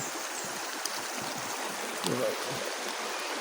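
Cold water from Mount Matutum flowing as a steady, broad rush and trickle throughout, with a faint voice briefly heard over it.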